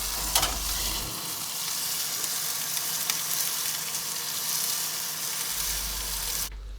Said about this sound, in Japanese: 焼けてない部分、底の部分の方をきれいに焼いて180度のオーブンでロティします。